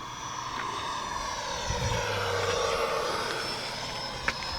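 An E-flite F-16 Falcon 80mm electric ducted fan RC jet flies past, giving a steady airy hiss and a smooth whoosh with no whine, moderately near and heard alone.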